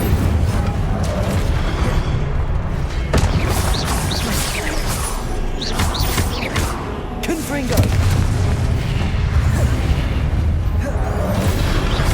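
Fire spells cast over and over in Hogwarts Legacy on PS5 Pro, heard as loud booming bursts and crackling blasts amid continuous combat noise, with voices shouting over the action.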